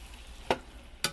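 Canned kidney beans, unDrained, being stirred into a pot of chilli: two short wet scraping swirls about half a second apart over a low steady background hum, close and fairly quiet.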